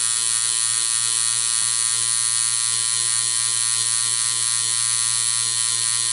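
A tattoo machine needle doing dotwork filling gives a steady, continuous electric buzz that holds the same pitch throughout, close and fairly loud with no voices.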